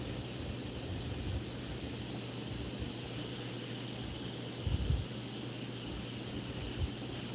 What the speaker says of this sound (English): Spray it real light though.